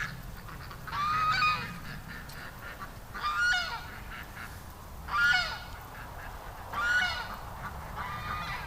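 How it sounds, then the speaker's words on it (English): Geese by a creek honk four times at a steady pace, each call a short nasal cluster, heard from a moderate distance over a low outdoor rumble. "the geese, yeah, there they are"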